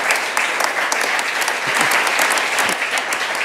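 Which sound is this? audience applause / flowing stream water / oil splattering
audience applause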